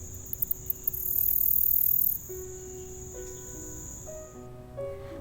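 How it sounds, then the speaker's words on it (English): Grasshopper stridulating with its wings, a high continuous insect buzz swelling for about a second after a few clicks, then fading as other faint tones continue. "I love this video of a grasshopper, where you can see how his tiny wings vibrate to make such lovely music."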